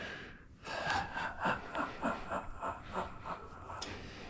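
A person breathes out during an intense toe reflexology massage with an acupressure pen, giving a series of close, rhythmic, forceful puffing exhalations that run together over about four seconds.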